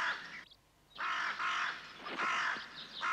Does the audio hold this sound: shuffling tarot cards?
no